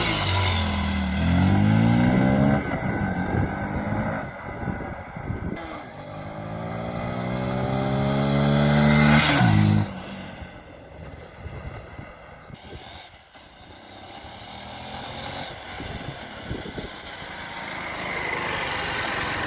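A Honda CBF 150 motorcycle engine revs up and down several times, its pitch climbing and falling, then settles into a lower, steadier running rumble.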